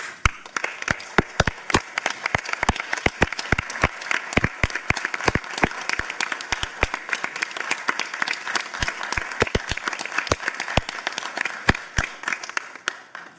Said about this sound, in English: recognize you with a round of applause.